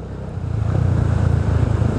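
A motorcycle engine idles and rumbles nearby with a low, pulsing throb that swells in the first half second, then holds a steady running note.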